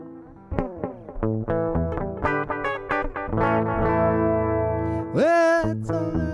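An electric guitar played through a Line 6 POD Express amp modeler on a tape-echo rockabilly setting picks out a bright, twangy run of single notes and chords, ending on a bent, sustained note.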